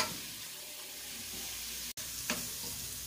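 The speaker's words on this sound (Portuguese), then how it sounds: "Vou deixar fritar um pouquinho e já volto." Food frying in a pan while baked rice is being prepared, a faint continuous sizzle with a soft stir or scrape near the end and no voices.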